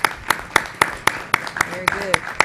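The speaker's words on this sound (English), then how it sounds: "A round of applause to our teachers and our principals." An audience at a school board meeting claps in a slow, steady rhythm of about ten sharp claps, loud and close, with a voice speaking faintly in between.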